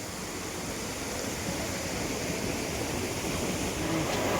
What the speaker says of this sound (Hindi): यहाँ से ये पानी निकलता है बाहर को और उसके बाद सीधे नीचे को